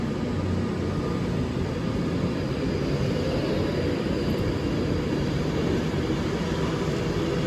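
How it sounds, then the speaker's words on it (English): An Avanti West Coast Class 390 train pulls out of Stoke-on-Trent station with a loud, steady, broadband roar and rumble that holds constant throughout, and no voices are heard. "And that is railing off from Stoke on Trent. That is railing off now."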